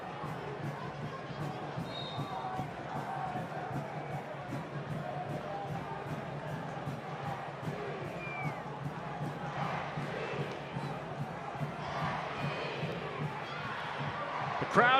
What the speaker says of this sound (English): crowd at Toyota Field, trying to encourage the home team forward.